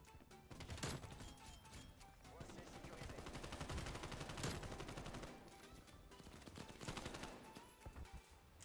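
AK-74u rifle bursts in a first-person shooter video game: rapid, dense volleys of gunfire in repeated bursts, fairly quiet overall, with a little background game noise between them.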